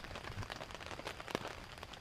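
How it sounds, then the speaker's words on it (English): Soft, steady patter of light rain on a surface, with scattered drops tapping close by and one sharper tap near the end. "It's raining gently."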